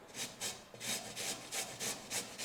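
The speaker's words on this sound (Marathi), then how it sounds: "बटाटा किसून घेऊ बारीक किसणी वापरू नका मोठीच किसणी वापरा" Potato rubbed on a coarse grater while standing, for sabudana potato papad, a steady rhythmic rasping with about nine even strokes, close and clear with no talking.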